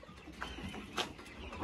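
Sultan and Hamburg roosters and chickens in farm pens, heard as faint, soft clucks and short calls at a distance.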